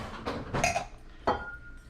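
Ice cubes drop into a tall glass for an Aperol spritz, a few separate clinks and clatters with a short pause between, close and moderately loud with no talk.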